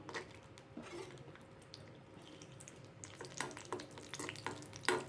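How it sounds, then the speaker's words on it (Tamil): Cashews frying in ghee in a pan, with a soft continuous sizzle and brighter clinks and scrapes of a utensil against the pan in the second half. "கொஞ்சம் நெய் விட்டு இந்த நெய்யில் வந்து இந்த முந்திரியை கொஞ்சம் வறுத்து எடுத்துக்குவோம்"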